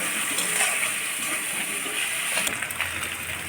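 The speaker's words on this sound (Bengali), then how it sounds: "এই পেঁয়াজটাকে ভেজে নিতে হবে।" Onion seasoned with salt and turmeric frying in a pan, a continuous close sizzle and hiss with soft stirring textures, no voices.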